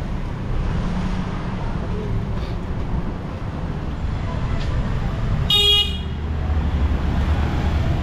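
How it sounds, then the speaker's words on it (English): A car horn honks once in a short, sharp toot over steady road traffic noise and engine rumble, clearly audible in street surroundings. "Why you are honking? There's no one."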